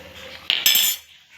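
Cooked food, a sweet-sour dal with chakolya dumplings, being served from a pot into a bowl, with a few close metallic scrapes and clinks of a spoon against the dish, brief and alone.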